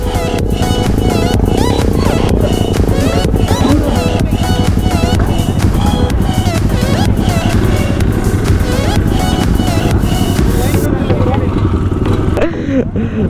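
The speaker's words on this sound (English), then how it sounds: "So participating in slow motorcycle race." Motorcycle engines drone steadily and loudly nearby during a slow motorcycle race at an auto carnival, with a crowd talking and shouting underneath the continuous rumble.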